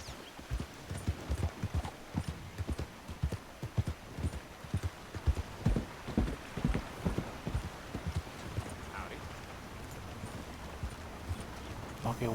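Horse hooves in Red Dead Redemption 2 clip-clop in a steady, fairly close rhythm over a game soundscape, strongest early on and easing off toward the end.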